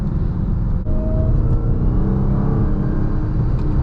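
A Dodge Charger Hellcat Widebody Jailbreak engine roars and revs close by, a deep, loud, heavy rumbling growl that stays steady and powerful throughout, with no talking.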